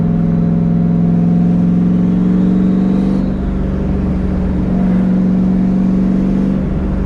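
A turbocharged NewEdge Ford Mustang running E85 on 10 pounds of boost, its engine holding a loud, steady droning note close up during a night drive, with a slight dip midway and no talk.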